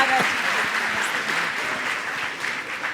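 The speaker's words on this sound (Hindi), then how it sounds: "इस सूत्रात्मक उत्तर के लिए एक ताली बजा दो" Applause from a seated audience at a religious question-and-answer gathering, a crowd of hands clapping at a steady level that fades slightly toward the end.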